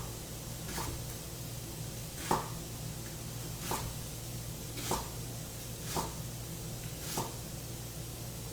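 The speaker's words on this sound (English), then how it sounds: "And then I'm just going to slice them, probably in about 1/4 inch slices." Knife slicing leeks into quarter-inch rounds on a cutting board: six separate crisp cuts spaced about a second apart, each a short sharp chop through the stalk, over a steady low background hum.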